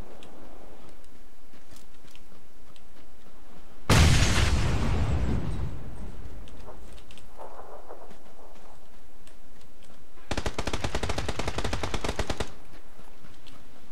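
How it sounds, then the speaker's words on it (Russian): In the PUBG battle game, a grenade goes off with a loud, sharp blast that decays over a couple of seconds, followed later by a rapid burst of automatic gunfire, with quieter scattered shots between. "Я гранату кинул."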